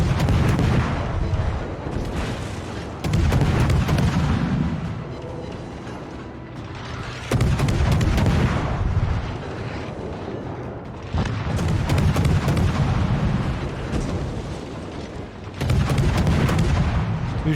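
Warship guns fire armor-piercing shells at a Dallas cruiser in a naval combat game, sounding as four loud, deep booming salvos spaced a few seconds apart, each with a rumbling tail, and no talk.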